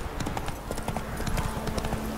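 Horse hooves clip-clopping at a steady gallop in the video game The Witcher 3: Wild Hunt, a continuous rapid rhythm of hoofbeats over ambient game sound.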